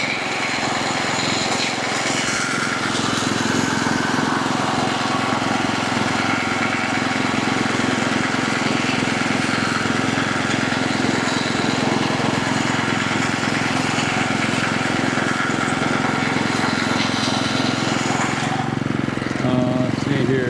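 A riding lawn mower's engine drones steadily and loudly at close range while cutting grass beside a home putting green, holding an even pitch for most of the run before easing off near the end.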